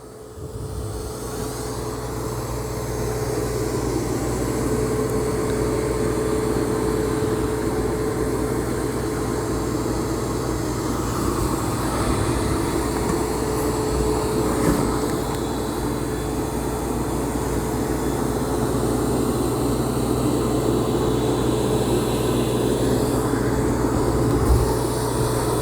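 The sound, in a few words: Roborock Saros 20 robot vacuum vacuuming carpet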